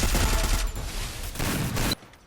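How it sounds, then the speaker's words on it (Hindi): Rapid bursts of SCAR rifle fire from a shooter video game crackle loudly for about two seconds, then cut off abruptly into near silence. "जैसे ही वो खुले में आता है तो उसको मैं स्कार से हेडशॉट मार देता हूँ।"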